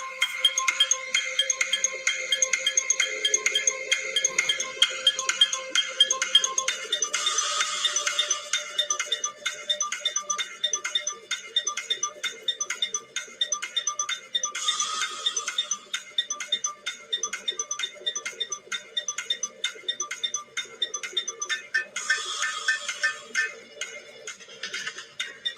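An electronic game timer for a Guess Who round ticks steadily and rapidly throughout, a bright repetitive tone pattern with periodic louder chime-like bursts, alone without talk.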